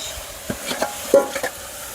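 Forest pig meat dropping into a hot pan for a family non-veg feast, giving a few short sizzling bursts and stirring scrapes close by, fairly soft and spaced out, with no talking.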